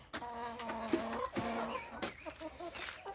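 Chickens cluck in a backyard coop, several close birds giving irregular rising clucks and short calls that overlap throughout.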